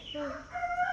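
Domestic chickens at a rural home make a brief burst of clucking and squawking calls, close and moderately loud, lasting about a second.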